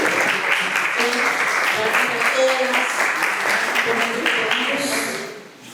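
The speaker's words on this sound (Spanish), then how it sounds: "Un aplauso" Audience applause at a national education conference panel on non-sexist education: sustained, dense clapping from a full room with scattered voices mixed in, staying strong before tapering off near the end.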